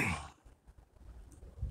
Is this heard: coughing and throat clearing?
yes